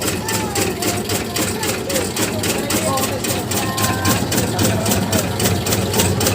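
A motor-driven automatic tobacco-chopping machine, built by a local maker in Kendal, runs close by with a rapid, regular mechanical clatter over a steady engine drone, the chopping strokes repeating evenly throughout.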